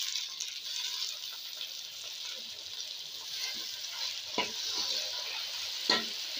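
Tomatoes frying in a chicken karahi, a steady high hiss of sizzling oil with occasional scraping stirs and soft clinks of a spoon against the pan.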